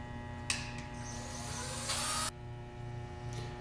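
Power driver sinks screws into a solid pine Adirondack chair kit, with short bursts of high whirring over a steady hum, the longest run just before the motor cuts off.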